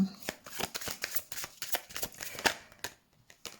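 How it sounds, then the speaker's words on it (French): Tarot cards being shuffled and drawn, a run of quick papery riffles and flicks close by, with a brief pause near the end and a faint voice in the background. "on va prendre quelques cartes pour le domaine sentimental"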